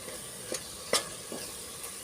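Vegetables and onion frying and being stirred in a pan for vegetable pulao, a faint steady sizzle broken by a few sharp scraping stirs of a spoon, with no talk.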